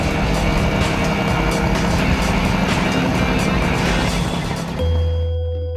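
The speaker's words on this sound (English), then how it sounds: "When you drive this car, it really does give you an exhilaration because it's loud and very fast." A Talbot-Lago T150 C SS Roadster engine roars loudly and steadily while the car is driven fast, holding a dense, sustained note before dropping to a lower idle-like hum near the end.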